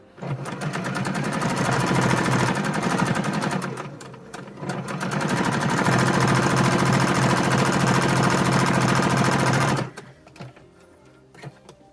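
Sewing machine running steadily while stitching a quarter-inch seam joining two fabric squares for a flower bouquet quilt, a loud continuous mechanical whir with a brief slowdown midway before stopping near the end, then quiet.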